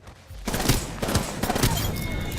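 Gunfire in Apex Legends, a rapid burst of automatic shots starting abruptly and continuing with repeated loud cracks and booms, close and dominant.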